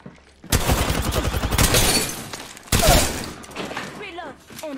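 Loud rapid bursts of automatic gunfire rattle through an Apex Legends firefight, with a short break before another burst and some game sound effects trailing after. A player speaks over the shooting.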